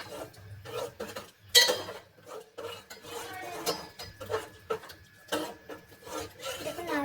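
Vegetable khichuri being stirred in a pot after adding salt, with close clinks and scrapes of a spoon against the metal pot in uneven bursts, and a voice speaking intermittently.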